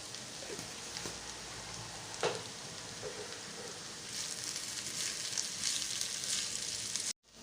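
Seasoned ingredients with salt and pepper sauté in a pan for homemade lamb lumpia, a continuous close frying hiss with occasional stirring scrapes, growing slightly louder before cutting off abruptly near the end.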